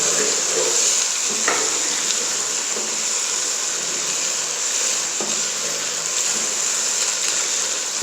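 Ingredients for Chinese rice stirred in a frying pan, a dense continuous hiss of frying that stays loud and even throughout, broken now and then by faint scrapes of the utensil.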